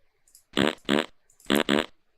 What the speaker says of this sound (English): This fart sound, why?